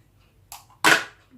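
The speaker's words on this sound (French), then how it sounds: "On va casser d'abord 2 œufs." Two eggs cracked for a mini apple or coffee tartlet batter: a faint tap, then one sharp, bright crack, close and alone with no talk.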